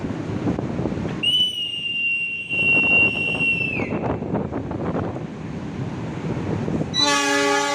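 A KRL electric commuter train departs in Indonesia, rumbling and clattering along as a high, sustained whistle sounds and bends downward, then a loud horn blares at the end.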